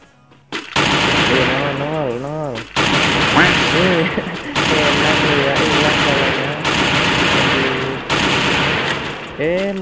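Weapon fire in the Free Fire battle royale game rattles out in loud, long automatic bursts separated by brief gaps, with a player's voice and tonal game sounds layered over the shooting.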